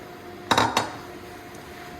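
Ground pork shoulder stirred in a pan: two quick metallic clanks of a utensil against the pan, close and fairly loud, followed by a low, quiet kitchen background.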